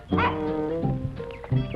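A dog named Chin barks indoors in a 1978 horror film, a couple of close, sharp barks followed by whining yelps and short howling cries in quick succession.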